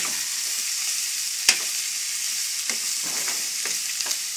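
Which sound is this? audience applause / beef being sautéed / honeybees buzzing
beef being sautéed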